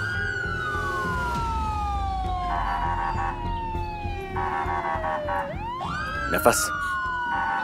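A police car siren wails loudly and continuously, its tone sweeping down and then rising again in long cycles, heard close under a dramatic scene with short spoken words and a brief sharp bang near the end.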